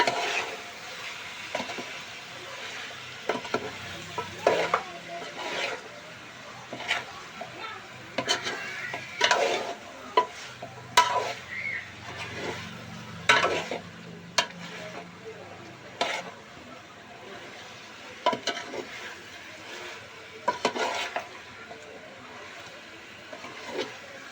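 Kashmiri chicken gravy stirred in a pan, a spoon scraping repeatedly in irregular strokes over a soft simmering sizzle, fairly close and moderately loud.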